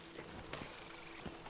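Horse hooves clip-clop at a walking pace in the Red Dead Redemption 2 video game, a light, soft rhythmic series of steps heard faintly and alone.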